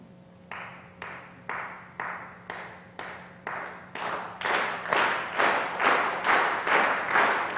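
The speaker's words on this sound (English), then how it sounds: "to start clapping, and then let's amplify the sound" An audience claps in unison, starting as sparse, evenly spaced single claps that grow louder and denser into a steady rhythmic beat, with no talking.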